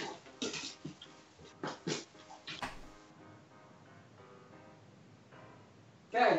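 A dog close by, giving a string of short whimpers and snuffly breaths in uneven bursts, tapering into quiet household background before a sudden louder thump at the end.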